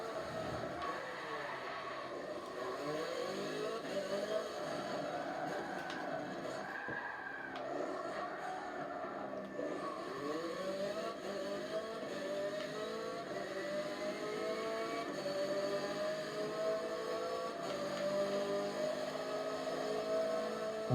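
A Chevrolet Corvette or Ford Focus RS engine revs in Forza Motorsport 7, climbing and falling in sweeping pitch sweeps with a tire-like squeal, steady and moderately loud throughout with no talking.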